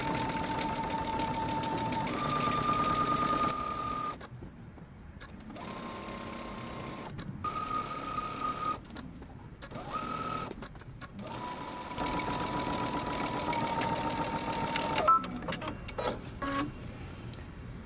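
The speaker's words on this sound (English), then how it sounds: "we're going to go ahead and stitch the entire inseam using" A sewing machine stitches the long inseam of a jumpsuit with a 5/8-inch seam allowance, whirring steadily in long runs broken by several short stops, close and moderately loud.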